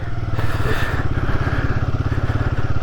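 Royal Enfield Guerrilla 450 motorcycle on a ride to a lake, its single-cylinder engine running with a loud, close, steady rhythmic thump and a slight rev change early on, no talking.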